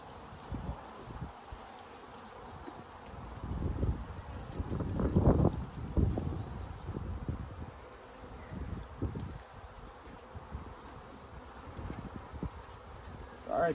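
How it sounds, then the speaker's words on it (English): Honeybees from a newly installed bee package buzz around outdoors, a scattered, fluctuating hum with louder passes as individual bees fly close, mixed with light wind noise and handling sounds. "there's some bees escaping"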